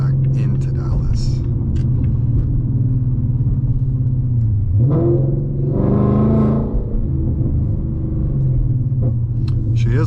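A Whipple supercharged 2025 Mustang GT with an MBRP Armor Race exhaust driving along, a loud low engine rumble that holds steady, rises briefly in pitch as it accelerates, then settles, with someone talking over it.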